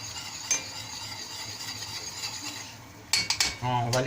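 Caramel cooking in a pan and stirred now and then, a faint steady scraping and sizzle with a soft clink near the start, then a few sharper metallic knocks and rattles close up near the end.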